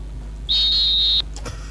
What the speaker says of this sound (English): Let's blow the final whistle.